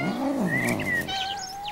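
A cat gives a short rising and falling meow, close and clear, followed by faint higher chirping tones in the background.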